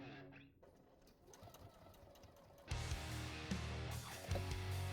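A sewing machine runs in steady bursts stitching a tote bag strap, its motor hum and needle chatter growing louder and denser in the second half, with no talk.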